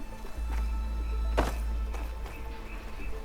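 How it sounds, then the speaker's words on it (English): A single heavy thunk as a ladder drops in the video game Horizon Forbidden West, heard once over a low, steady in-game hum. "I gotta drop the ladder for Varl."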